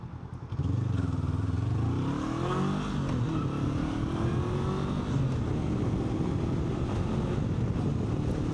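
Honda NX500 motorcycle engine heard while riding, rising in revs through a couple of climbing pitch sweeps before settling into a steady, loud drone with heavy wind buffeting over the microphone.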